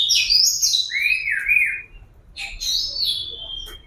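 An oriental magpie-robin (kacer) sings nearby in bright, sweeping whistled phrases and quick chirps, pausing briefly midway before resuming, over a low background hum.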